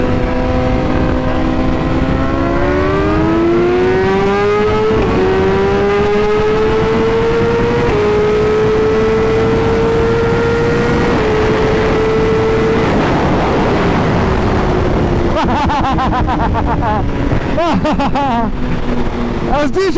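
In a racing video game, a BMW S1000RR motorcycle engine screams as it climbs in pitch, then eases back, loud and continuous with brief bursts of shifting near the end.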